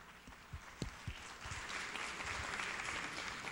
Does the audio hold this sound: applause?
yes